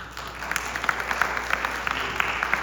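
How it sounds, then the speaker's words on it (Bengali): An audience at a victory day celebration claps together in sustained, even applause, with sharp claps standing out over a steady wash, moderately distant and with no talk over it. "তো তারপরে একটা হাততালি তো দিতেই হয়"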